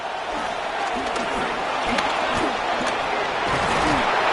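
A stadium crowd in a Madden 26 game between the Eagles and the Cowboys keeps up a broad, loud roar, while a commentator's voice runs faintly underneath.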